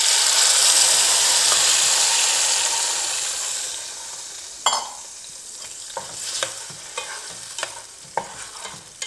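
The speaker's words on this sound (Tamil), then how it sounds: "நல்ல ஒரு மீடியம் ஃப்ளேம் வச்சு நீங்கள் நல்லா எண்ணெய் பிரியிற அளவுக்கு இதை வதக்கிக்கணும்" An onion, tomato, ginger and garlic masala paste sautés in oil over a medium flame. A bright, hissing sizzle fades gradually, then sharp spoon scrapes and stirring clicks come at irregular intervals, close by and with no voices.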